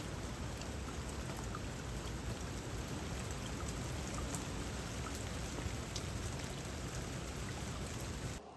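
Steady rain falls outside an old house, pattering hard and continuously on surfaces and splashing down, with no voices.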